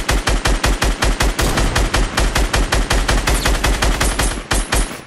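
Rapid automatic gunfire in the video game Fortnite, loud, close bursts of dozens of evenly spaced shots rattling almost continuously for several seconds, with no talking.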